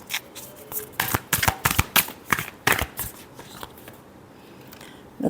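Tarot cards are shuffled by hand in a run of crisp, riffling bursts and snaps, close and fairly loud, fading out toward the end with no talking.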